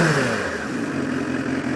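Steady, loud, close engine roar from a 2006 Suzuki Katana 750 motorcycle held with the clutch pulled in as the throttle is rolled, a gritty sustained note with no talking.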